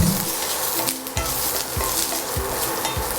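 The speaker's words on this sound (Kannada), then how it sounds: "ಆಯಿಲು ಚೆನ್ನಾಗಿ ಕಾದು ಆನಿಯನ್ ಪೀಸಸ್ ಎಲ್ಲ ಚೆನ್ನಾಗಿ ರೆಡ್ಡಾಗಿ ಕೆಂಪಗೆ ಆಗೋ ಥರ ಚೆನ್ನಾಗಿ ಫ್ರೈ ಮಾಡ್ಕೋಬೇಕು" Onion pieces frying in hot oil crackle and sizzle steadily up close, with repeated soft scraping strokes of a spatula stirring them in the pan, no voices.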